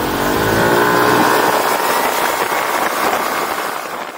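A nearly new Kymco DTX 360 125 scooter, with only 100 km on the clock, accelerates hard; its engine drone rises steadily in pitch, loud and close throughout.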